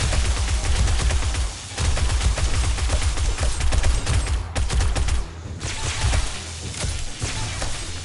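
Rapid bursts of automatic gunfire from a submachine gun in 7 Days to Die crackle repeatedly with brief pauses between volleys, loud and close, amid game sound effects.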